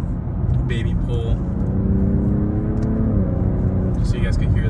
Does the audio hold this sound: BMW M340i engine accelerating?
yes